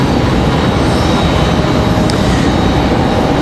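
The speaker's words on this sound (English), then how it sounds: "Next arrival is going to be Republic Airways 4630 from Pittsburgh, Pennsylvania. 54 minutes of flight time for that E175LR" A Republic Airways Embraer E175LR jet arriving at Raleigh-Durham airport, a loud, steady broadband engine roar that fills the whole moment without letting up.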